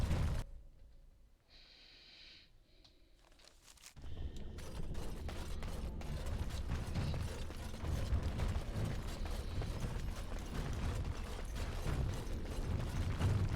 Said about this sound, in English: There's a door over here that I'm going through.